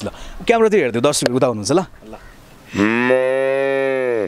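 A person talks briefly, then imitates a Jersey cow with a single long, loud, sustained moo that lasts about a second and a half and ends the clip.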